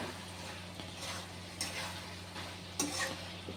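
Vegetables with bori are stir-fried on a gas stove: soft scraping stir strokes come every second or so over a low, faint sizzle.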